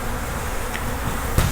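Honey bees buzz in a dense, constant hum close by, with a brief click near the end and no voices.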